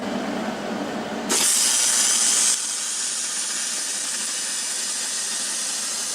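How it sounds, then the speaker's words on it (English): MIG welding on aluminum with basic, inexpensive equipment, a steady loud hiss and crackle that swells sharply for about a second before settling into a continuous buzzing arc sound that runs to the end. "So now that I have this tacked up, I think it's time to attempt to run our first weld."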